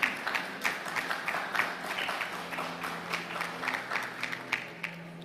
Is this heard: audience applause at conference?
yes